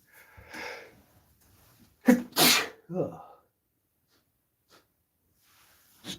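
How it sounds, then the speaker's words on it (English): A sharp sneeze bursts out, followed quickly by a second, then a softer sniffling exhale; quiet moments surround them. "And now I start sneezing."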